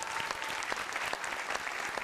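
Studio audience applauding at a Vietnamese television game show, a steady dense clapping that carries on evenly throughout at moderate loudness with no talk over it.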